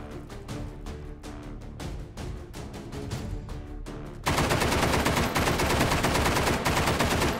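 Rapid automatic fire from a Thompson-style drum-magazine gun in the VR shooting game Hot Dogs, Horseshoes & Hand Grenades, a fast rhythmic burst of shots that swells into dense, continuous, loud fire for the second half.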